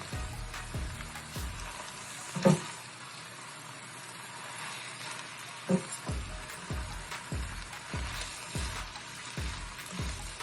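Hakka noodles being tossed with a salad server, giving soft wet slapping and rustling in an irregular rhythm over a steady hiss, with two sharper clacks of the server against the bowl.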